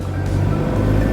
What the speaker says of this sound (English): This is me driving.